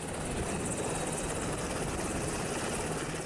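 A helicopter flying to Pedrera in the Amazon gives a steady, loud, continuous rotor and engine roar that fills the clip on its own, with no talking.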